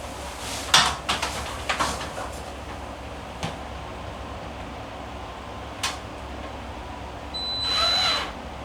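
A power drill drives a screw during a QuietCool ES2250 whole house fan installation, giving a few brief close bursts with clattering handling and tool knocks around them, then a short whirring run near the end.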